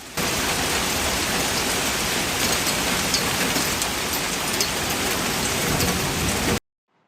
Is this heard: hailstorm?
yes